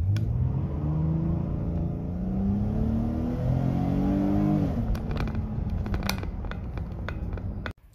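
A minivan's Pentastar 3.6 liter V6 revs steadily under acceleration for about five seconds, its engine note climbing in pitch, then eases off as clattering, clicking interior noises follow near the end.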